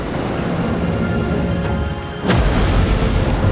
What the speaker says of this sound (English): when this huge ship capsized, a monstrous explosion erupted